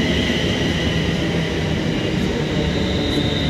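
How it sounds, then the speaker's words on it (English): A double train pulls into Leighton Buzzard station, a loud steady rumble of rolling stock and wheels heard close on the platform, continuous throughout with no talk. "look, the train's pulled in again. Double train as well"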